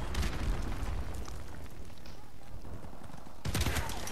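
Grenade blast and gunfire in the video game Modern Warfare Remastered, a loud booming burst at the start and another near the end, with continuous battle noise between and a voice talking faintly underneath.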